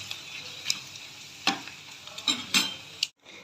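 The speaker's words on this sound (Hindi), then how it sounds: "आज ऐसे मन करा कि पापड़ फ्राई करते हैं, इसलिए मैं फ्राई कर रहा हूँ" Papad fries in hot oil with a soft steady sizzle and a handful of sharp crackles and pops, close by, before everything cuts to silence near the end.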